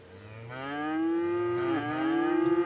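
A single cow in the city-building game Cities: Skylines lets out a long, loud moo that swells and holds, with a second bellow beginning at the end.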